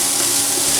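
Potatoes and broad beans sautéing in a pan for poriyal, a steady close hiss and sizzle with no break and no talk.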